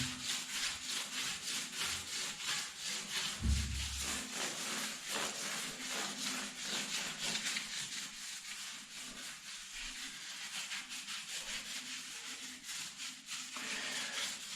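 A sponge rubbing steadily across a mosaic tile surface during cleaning, a continuous close scrubbing rasp with a quick back-and-forth rhythm that carries on alone throughout.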